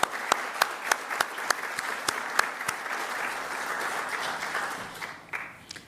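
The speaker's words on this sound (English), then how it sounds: "So let's give Rudy a round of applause" A round of applause from an audience at a Pentagon Pride event, starting with a few distinct loud claps up close and swelling into steady clapping before tapering off.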